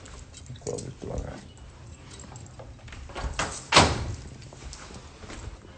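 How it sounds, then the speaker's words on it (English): A house door in a mansion swings shut with a firm thud near the end, preceded by softer handling knocks and shuffles, with people talking nearby. "Let's close this door."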